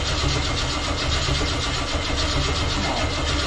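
A 1957 Chevy car engine turns over and catches, settling into a loud, steady, rumbling idle with an even pulsing chug close by, no talking.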